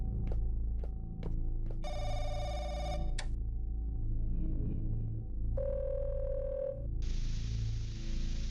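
Telephone ringing in the video game Firework at a public phone: bursts of electronic ring tones and beeps over a low droning background, then a sustained dial-type tone at the end.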